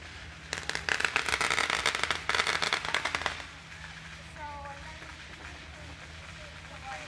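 Fourth of July fireworks in Corvallis in 2019, a dense burst of crackling pops for about three seconds, then quieter ambience with faint whistling tones.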